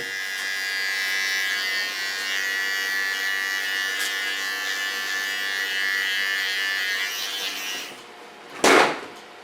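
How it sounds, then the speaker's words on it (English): An electric hair clipper buzzes close by while trimming a rounded line around the ear for a pixie cut, a steady high hum for several seconds before it cuts off, followed by a brief handling thump. "Take the tip of my clipper. Make a nice rounding around the ear."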